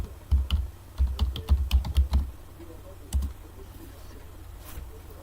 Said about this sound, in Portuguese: Eu vou digitar a senha que eu cadastrei para o evagu.